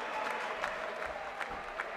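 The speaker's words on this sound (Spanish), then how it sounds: "El público por eso comienza a aplaudir y a alentar al argentino." In an MMA arena, the crowd applauds and cheers for the Argentine fighter during the bout, producing a faint, distant wash of clapping with a few sharper swells.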